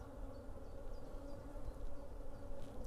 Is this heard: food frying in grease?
no